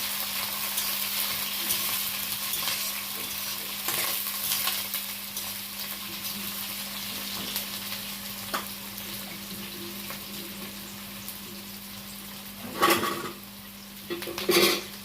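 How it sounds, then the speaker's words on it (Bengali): Crab curry sizzles steadily in a hot pan while a utensil stirs and scrapes against metal, with occasional louder clatters, under a faint constant hum. "ভাজা হচ্ছে"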